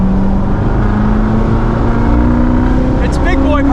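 A 2019 Chevrolet Corvette Z06 with a seven-speed manual gearbox pulls hard in third gear on a race track, its loud engine note climbing steadily in pitch, with a voice briefly near the end.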